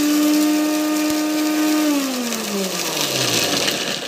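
Electric mixer grinder whirring loudly as it crushes grated coconut, peanuts and chilli, a high steady motor whine that drops in pitch and winds down toward the end.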